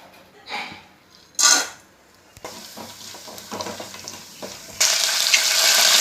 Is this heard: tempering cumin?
yes